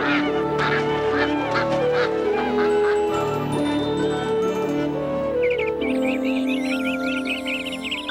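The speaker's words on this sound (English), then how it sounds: "God created every kind of bird" A cartoon scene from a Hanna-Barbera animated Bible story fills with many birds honking and quacking like geese and ducks, a busy overlapping flock over a musical bed, with chirps and twitters near the end.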